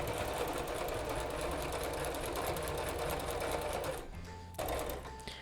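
Sewing machine stitching a punch needle cushion: a steady, fast mechanical whir of stitching runs close and loud for about four seconds, pauses briefly, then starts up again.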